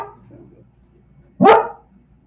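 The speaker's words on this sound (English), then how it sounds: "Okay, no barking, baby." A single sharp dog bark rings out close by after a moment of quiet, faint background murmur.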